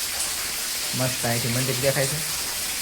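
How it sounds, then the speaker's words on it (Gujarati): Heavy rain falls over the village of Uncha Kotda, making a dense, steady hiss that continues unbroken while someone talks briefly over it. "તો આમ વરસાદ અત્યારે ફૂલ ચાલુ થઈ ગયો છે."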